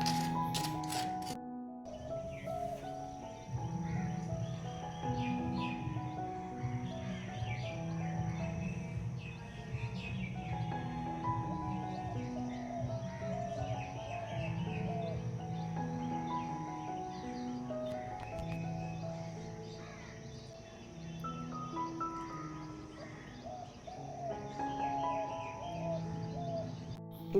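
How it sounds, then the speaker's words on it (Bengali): Birds call repeatedly in a continuous outdoor chorus, layered tones rising and falling at a moderate distance, with no voices. "জানি না তোমরা পাখিটার ডাক শুনতে পেয়েছো কি না"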